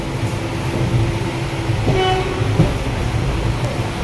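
Steady rumble of a train with a brief horn blast midway, continuous rolling noise throughout and faint clanks, heard from close by.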